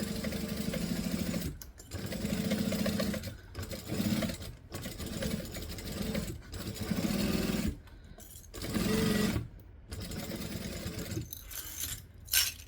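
Home sewing machine stitching and back stitching while sewing a bag, its motor running in several bursts of steady whirring, each a few seconds long, separated by brief silent pauses, close and loud with no talking.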